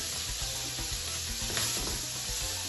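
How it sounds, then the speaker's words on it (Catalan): A few drops of cognac sizzling and evaporating in a hot pan, a steady hissing sizzle held at even loudness throughout, close, with a low hum underneath and no talking. "Posarem unes gotetes de conyac. Esperem que s'evapori l'alcohol"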